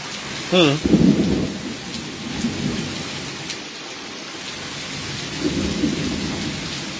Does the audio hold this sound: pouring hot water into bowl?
no